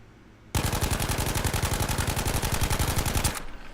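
Sustained automatic gunfire on a shooting range in Battlefield V, a rapid, evenly spaced burst of roughly three seconds of close, loud shots that starts and stops abruptly, with no voices.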